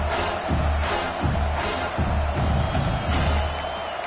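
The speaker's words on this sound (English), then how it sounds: "Here comes this home crowd as the defense tries to get off the field on 3rd down." A home stadium crowd in a college football game, South Carolina versus Oklahoma, roars and cheers on third down, with a swelling dense din and rhythmic pulses of noise throughout.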